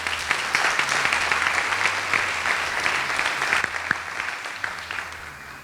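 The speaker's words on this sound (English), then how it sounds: "Let's give them a wonderful round of applause" A crowd at a school district parent council's Meet the Candidates night gives a sustained round of applause, steady and fairly loud, tapering slightly toward the end.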